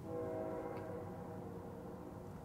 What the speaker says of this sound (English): Listen to the train.